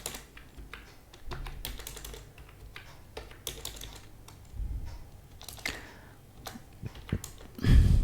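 Values being typed on a computer keyboard into a LibreOffice spreadsheet, heard as steady, close, rapid key clicks in irregular bursts, ending with a louder thump.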